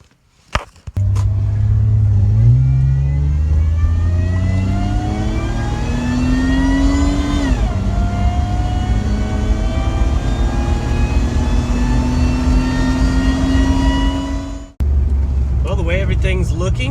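A supercharged J-series car engine pulls hard under boost, its pitch climbing steadily through a long acceleration, dropping briefly at a shift, then climbing again before cutting off, loud and close throughout.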